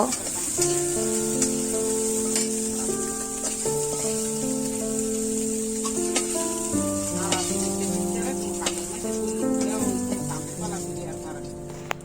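Poya fish fry lightly in oil with a soft, steady crackling sizzle sitting beneath melodic background music for the whole stretch.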